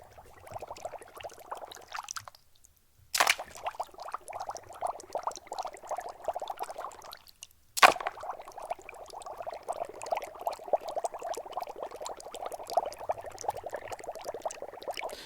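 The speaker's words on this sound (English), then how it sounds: "So I just hear mostly the bubbles." Liquid boiling in a pot, recorded close in an indoor room: a dense, continuous bubbling texture with a faint background hiss, briefly dropping out twice and punctuated by two sharp clicks, with no voices.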